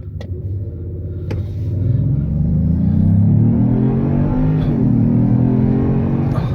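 A 2025 Genesis GV80 Coupe with its twin-turbo engine pulls hard under full throttle, a deep continuous roar that climbs steadily in pitch and loudness over several seconds, heard from inside the cabin with no talking.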